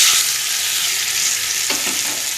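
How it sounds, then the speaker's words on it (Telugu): Close, loud hiss of a garlic and curry leaf tempering as it hits a gongura chutney, a bright steady sizzle with a brief clatter of stirring midway. "ఇప్పుడు మనము పోపు యాడ్ చేసేసుకుందామండి"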